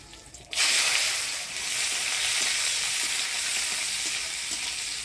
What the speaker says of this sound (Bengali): এবার লতিটা রান্না করব, ফোড়ন দিয়ে দেবো কালো জিরা পেঁয়াজ কুচি।